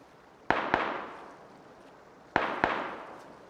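Gunshots in PUBG ring out in two pairs of sharp reports, each crack followed by a short echoing tail, moderately distant and heard over quiet background.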